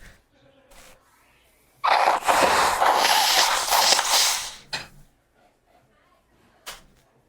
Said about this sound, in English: Oh, I have to blow my nose again.